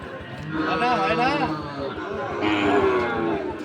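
Sahiwal bulls and other cattle low nearby amid a busy crowd at Ambari cattle market in Dinajpur, with people talking over the steady background.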